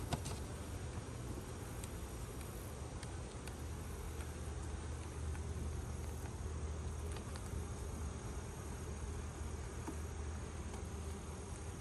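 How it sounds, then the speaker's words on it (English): Steady bee buzzing close by, a dense continuous drone with a few brief louder passes as bees bump a beekeeper's veil, no voices. "I can feel them and hear them bumping my veil"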